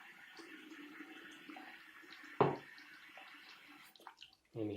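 Water is poured into a container, a soft, steady trickle with faint splashing and a few louder knocks and clunks.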